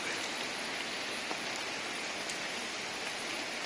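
Steady monsoon rain pours down in coastal Karnataka, a dense, continuous hiss that stays even and close throughout, with no voices.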